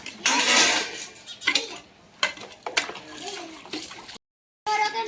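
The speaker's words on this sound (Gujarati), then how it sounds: "જો વીરા મને છે ને વાસણ ઉચકાવા લાગે છે" Metal utensils clatter and clink in bursts close by, with brief pauses and some splashing water between handlings.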